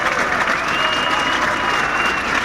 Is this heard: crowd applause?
yes